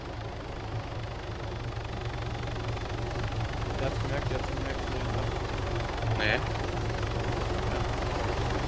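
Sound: helicopter in the video game Arma 3

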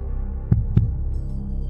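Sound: heartbeat sound effect

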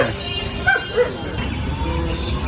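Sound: dogs barking

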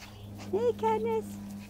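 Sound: puppy whimpering outside

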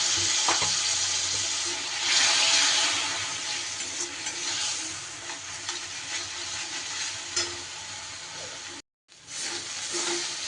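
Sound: masala spices being stir-fried in a pan

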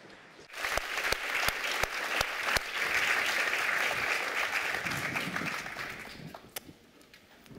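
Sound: audience applause for the speakers

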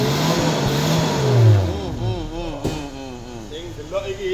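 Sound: Daihatsu Taruna CSX 2000 engine revving

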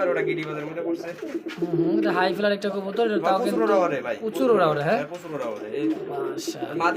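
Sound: pigeons cooing

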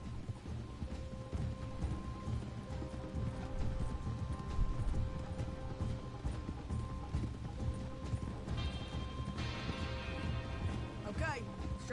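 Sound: horse hooves clopping in a video game

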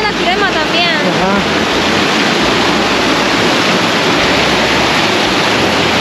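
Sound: water jet falling at Apanteos bathing spot, Santa Ana

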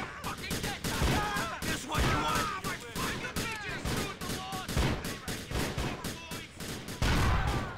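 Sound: shotgun gunfire in the video game Grand Theft Auto 4

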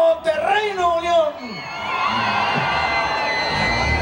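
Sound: concert crowd cheering and shouting

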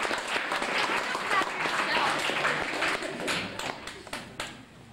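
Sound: audience applause for a hockey player at a banquet

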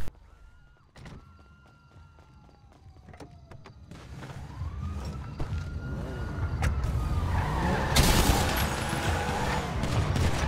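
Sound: police siren chasing, from a video game

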